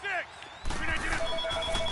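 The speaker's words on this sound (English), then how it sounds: "And the phone ringing." A telephone rings in short repeated electronic trills under excited talk and game sounds, at moderate loudness, during a football-themed escape game.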